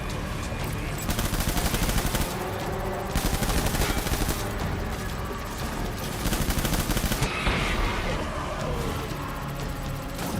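Rapid bursts of automatic gunfire from the video game Death Stranding, loud and dense, firing in repeated volleys across the whole stretch with brief gaps, while a voice occasionally shouts over it.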